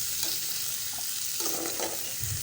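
Green chillies and tomatoes frying for an omelette, a steady soft sizzle with a few faint stirring scrapes, quiet and close.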